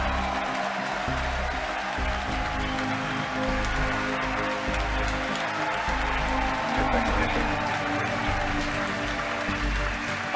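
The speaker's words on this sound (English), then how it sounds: "Again, over the cheering," A crowd cheers and applauds steadily at a SpaceX Falcon Heavy launch, a dense continuous roar of clapping and voices with a commentator talking over it.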